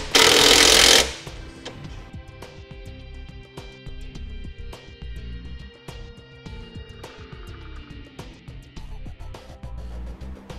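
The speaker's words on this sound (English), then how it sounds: "we'll go ahead and tighten them down and then torque to specifications" Fasteners on a Blue Ox base plate kit being tightened on a 2013 Chevrolet, opening with a brief loud burst from a power tool followed by repeated metallic ratcheting clicks and clanks at a steady pace, close by.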